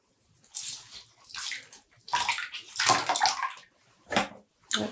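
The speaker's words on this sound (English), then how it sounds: "Now I'm squeezing out the water." Water squeezed by hand out of freshly dyed commercial yarn, giving several close splashy bursts and trickles that start and stop in irregular squeezes with quiet gaps.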